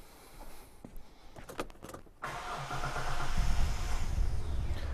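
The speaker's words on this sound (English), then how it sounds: "I'm going to go and crank the car and let's hear it if there's any compression issue" A Hyundai Terracan cranks with its fuel pump fuse removed: a short click and rattle, then the starter turns the engine over steadily and loudly for several seconds without firing.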